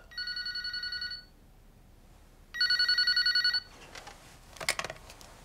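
A telephone rings in Yakuza Kiwami with a bright electronic trill, sounding in two distinct bursts separated by a pause, followed by clicky handling noises as the call is picked up.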